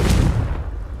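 A Confringo fire spell in Hogwarts Legacy bursts with a deep, booming blast that rolls off and decays over about a second.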